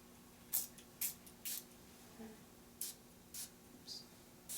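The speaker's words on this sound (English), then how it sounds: "now spray away, holding the bottle at each chakra center" A hand-held spray bottle pumped in a series of short, sharp hissing bursts, about seven squirts spaced unevenly over a few seconds against a quiet room.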